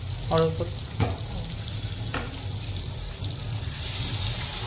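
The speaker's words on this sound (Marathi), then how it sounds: "आता मी हे पाणी टाकते त्याच्यात." Water poured into a hot pan of cooking green brinjal sets off a loud hiss and sizzle, with a few sharp splashing bursts early on and steady frying noise carrying through to the end.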